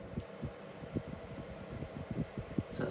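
Fridgemaster FM168 13-inch mini tower fan running on its lowest speed, a faint low hum with soft, uneven throbbing and no other sounds.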